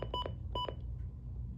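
Button beeps from a Midland WR300 weather radio being set up, two short pairs of bright electronic beeps close up, heard over a steady low hum with no talk.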